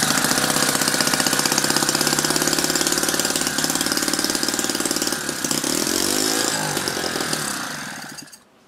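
A Lynx15 engine runs loud and close with a rapid, rattling mechanical beat that steadies, shifts in pitch partway through, and then cuts out abruptly near the end.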